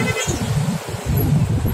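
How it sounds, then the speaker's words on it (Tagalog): Heavy December road traffic, dense with motorbikes, rumbles close by in a continuous low drone, with a brief faint horn toot near the start. "Ganito katinding traffic dito guys pag December talagang."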